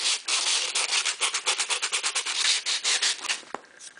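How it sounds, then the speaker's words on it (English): A wooden knitting needle being smoothed with 220-grit sandpaper: quick, rhythmic back-and-forth rasping strokes, close and fairly loud, about six per second, ending with a light tap, no talk. "Then you take your 220 sandpaper and you're going to smooth it out."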